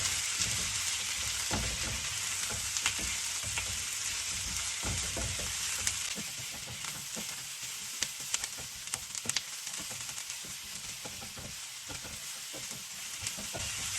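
Vegetables and seafood stir-frying in a hot wok give a steady, close, dense sizzle, with scattered crackles and occasional clanks from stirring running through it and no voices over it.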